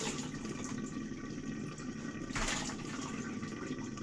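A kitchen tap runs steadily while food is rinsed before going onto a clean tray. The faint, continuous stream of water has one brief, louder splash partway through, and no one speaks.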